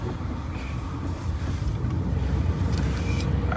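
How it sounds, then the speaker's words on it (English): A camper van driving slowly around a campsite at night, a steady low engine and road rumble with wind buffeting the microphone, continuous and close throughout. "I like to just drive around one full time just to make sure like I get the best place to park"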